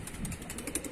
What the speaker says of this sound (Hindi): उसको देख के उड़ गए कबूतर।